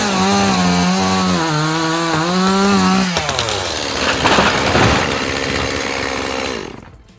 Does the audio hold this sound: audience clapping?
no